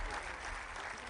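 Audience at a Delhi mushaira poetry gathering applauds, a dense, steady wash of many hands clapping heard from within the hall, continuous and even throughout.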